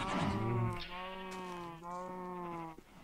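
Goats bleating in a Minecraft zoo modpack: a long, wavering, nasal bleat followed by a second drawn-out bleat, clear and close with no talking.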